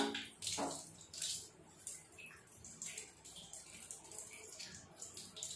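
Water sputters and sprays out of a leaking bidet spray hose fitting when the tap is opened, irregular hissing bursts and splashes at close range, fairly quiet and uneven.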